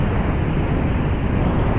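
Strong wind buffeting the microphone on a beach at night during a fishing trip, a loud continuous low roar and rumble with no break for the whole stretch.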